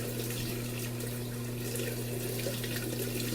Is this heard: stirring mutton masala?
no